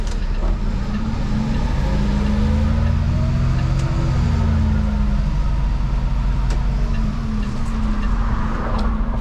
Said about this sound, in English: A Ferrari of some sort.